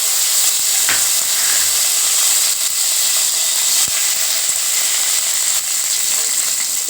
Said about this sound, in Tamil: அரை ஸ்பூன் கடுகு கடுகு நல்லா பொரியட்டோங்க கடுகு நல்லா பொரிஞ்சிருச்சுங்க